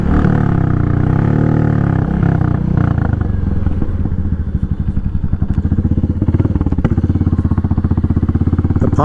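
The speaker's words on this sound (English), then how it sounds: "The pops and bangs of a hot rod motorcycle." A loud Royal Enfield Meteor motorcycle converted into a dirt bike revs and rumbles close by, its exhaust popping and crackling in rapid uneven bursts as the throttle drops.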